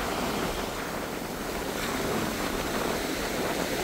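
Steady ocean surf washes continuously onto a beach at Keramoti, Kavala, Greece, a loud, even roar of breaking waves with wind noise and no voices.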